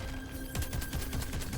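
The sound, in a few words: gunfire in video game Crackdown 3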